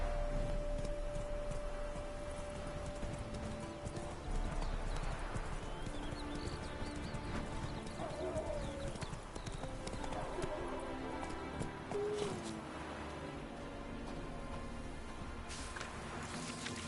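Hooves of Roach, the horse in The Witcher 3 video game, beat a steady clip-clop throughout with an occasional whinny, over game ambience, while a voice speaks now and then.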